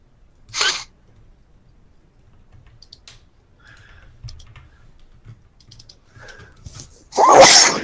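One person sneezes sharply and close by, then quiet keyboard typing and mouse clicks follow, and a second loud sneeze-like burst comes at the end.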